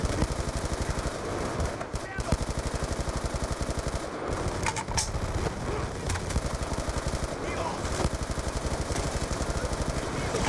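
Call of Duty: Black Ops II gunfire rattles almost nonstop in fast automatic bursts, loud and close, with scattered voices under the shooting.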